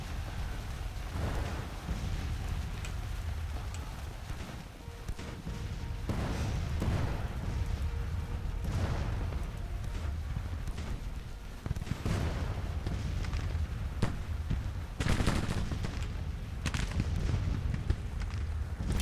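Cannon and musket fire from a Civil War battle at Chantilly in a strategy video game rumble at a distance. Heavy booms land every few seconds over a constant low roar of battle.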